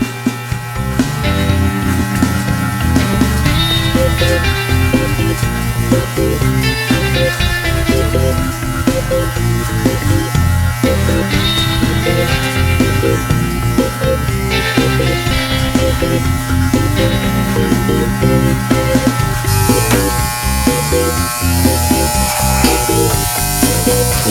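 Electric hair clippers buzz continuously up close, with a crackly, rough texture as they cut through hair.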